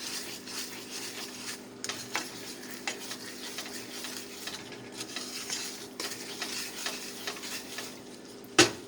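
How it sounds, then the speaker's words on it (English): Maple bananas foster sauce with pecans and bananas simmers in a pan, giving a steady low bubbling sizzle with occasional clinks and stirring scrapes of a utensil, ending in one sharper knock. "See how this is all starting to bubble? And just let this cook for a second."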